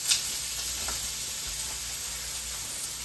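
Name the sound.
beef frying in a pan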